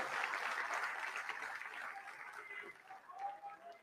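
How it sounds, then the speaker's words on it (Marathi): An audience at a Sambhaji Brigade political speech in Maharashtra applauds in a steady, faint wash of clapping that lasts the whole stretch, slightly uneven toward the end. "टाळ्या वाजवा त्यांच्यासाठी."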